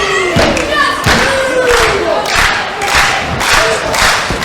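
Wrestling crowd at a 1PW tag team match chanting and cheering in rhythmic surges for a hometown tag team, punctuated by loud thuds from the ring, close and loud throughout.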